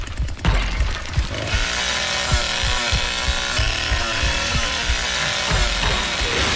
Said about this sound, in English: My chainsaw's all jammed.